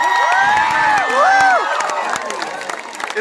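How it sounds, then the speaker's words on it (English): Crowd at an I.I.M.U.N. conclave breaks into loud, sustained applause with cheers and whoops, filling the hall from start to finish and easing slightly toward the end. "Huge round of applause, Prabhu Gaur Gopal Das."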